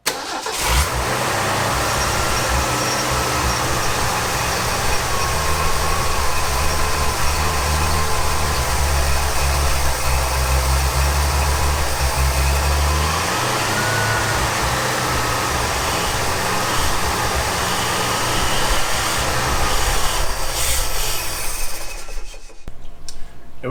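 The engine of a 1965 Ford F250 service truck, parked for 17 years, runs loud and close with a rough, steady rumble and slight shifts in speed, then cuts out abruptly at the end, with no talking.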